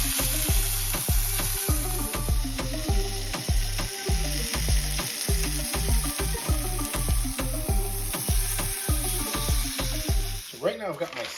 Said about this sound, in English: can also add some white wine to, or even some red wine to your steak while you saute it